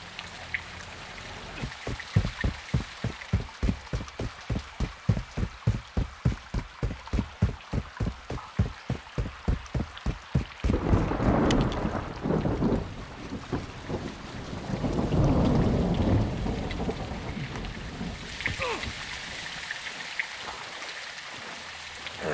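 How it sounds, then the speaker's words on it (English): Heavy rain pours down in a stormy scene in Call of Duty: Modern Warfare 2, first with a steady rhythmic pulsing beat, then two broad rumbling swells of thunder over the constant hiss of rainfall. "It's raining fucking hard."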